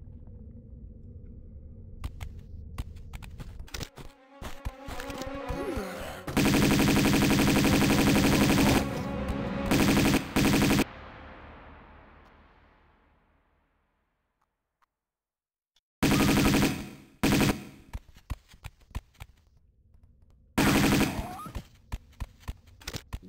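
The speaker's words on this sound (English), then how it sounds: "Machine gun that bitch." Machine gun fire from the Tomb Raider 2 Remastered video game comes in loud, dense bursts that break off abruptly and then return, with a player talking between the volleys.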